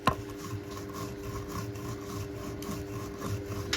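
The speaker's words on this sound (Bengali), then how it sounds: "এবার আমি সব মশলাগুলো বেটে নেব" Spices for chire potol are ground by hand, making a close, continuous rhythmic rubbing and rasping with repeated strokes and a faint steady hum behind.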